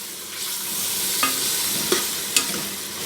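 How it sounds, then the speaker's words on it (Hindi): Finely chopped tomatoes and green chillies frying with spices in a pan for masala pumpkin sabzi, a steady close sizzle with three sharp clicks of a spoon stirring, no talking. "अब इसमें डाल दूँगी टमाटर और हरी मिर्चें बारीक कटी हुई"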